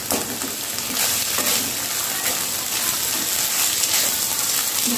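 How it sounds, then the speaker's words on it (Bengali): Basmati rice frying in a pan with a small spoonful of oil for paneer pulao, giving a steady, close, bright sizzling hiss that runs evenly throughout without any talk. "এবার এইটা দিয়ে খুব সুন্দর করে ভাজা ভাজা করবো।"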